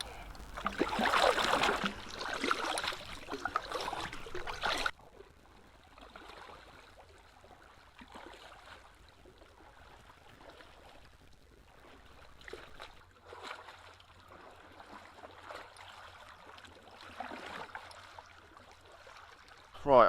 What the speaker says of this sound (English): let's paddle down the river and see what it's like